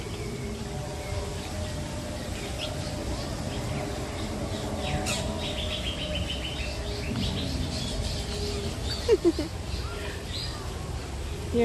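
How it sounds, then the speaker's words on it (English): Birds chirping and squawking around a Walt Disney World park, with scattered calls and a couple of sharper squawks near the end over a steady outdoor murmur and some talk. "Here's some fun birds."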